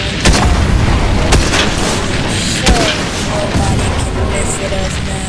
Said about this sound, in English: I'm gonna shoot that thing.